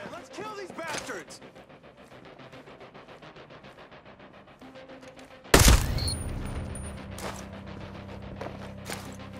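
Rapid, evenly spaced gunfire from a Ghost Recon tactical shooter firefight, a quick rattling burst under scattered voices, broken by a sudden loud blast that rings on with mechanical clatter.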